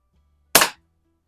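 A single sharp crack from a Daisy 822 multi-pump .22 air rifle, fired in a garage at a paintball, with a brief decaying burst and quiet before and after.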